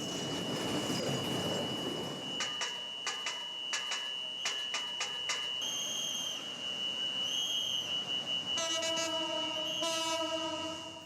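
At a railway level crossing in Dhaka, a passing train rumbles and clatters close by, then sounds its horn in several long, loud blasts.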